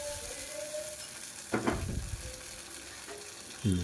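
Cooked dal, for tamarind-leaf dal, poured into a hot curry-leaf tempering in a pan, giving a quiet sizzle that swells briefly into a louder hiss and then surges again sharply at the end, with no talking.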